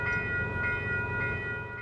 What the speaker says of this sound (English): This is the CP mainline lumbering through Toronto today.